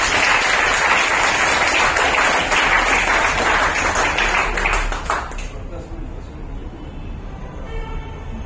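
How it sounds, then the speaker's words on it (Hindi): An award-ceremony audience breaks into loud, dense applause for about five seconds, then it cuts off abruptly to a much quieter room tone with faint tonal sounds. "जोरदार तालियां"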